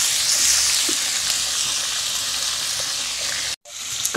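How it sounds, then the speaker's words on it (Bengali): Fish frying in a hot pan, a loud, dense, continuous sizzle close by that cuts off abruptly near the end before a short clatter, no one speaking. "এটা পরে মাছগুলো দিয়ে দিচ্ছি ভাজি করার জন্য।"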